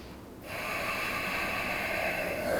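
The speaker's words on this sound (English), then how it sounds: "take 1 more breath" A long, deep breath drawn in and held through a gentle hip-release yoga stretch, a close, steady airy hiss that starts abruptly and continues evenly.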